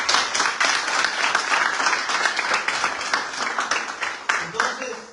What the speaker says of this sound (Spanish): ¿Por qué no le aplaude al Señor?